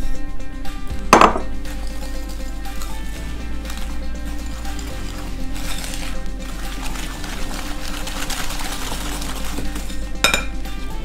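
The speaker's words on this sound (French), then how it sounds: "nous allons crémer le beurre avec le sucre puis rajouter la poudre d'amande" Butter and sugar creamed together in a bowl for a chocolate hazelnut cake, steady scraping and mixing with a constant low hum, and sharp clinks of a utensil against the bowl.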